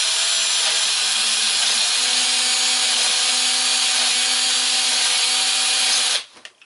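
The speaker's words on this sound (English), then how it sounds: "chuck your screw in your drill and just turn it on and take your file" Electric drill spinning a screw in its chuck while a file is run across the screw head for a rifle kit, a steady continuous whir with rasping, running loud and unbroken for about six seconds before cutting off abruptly.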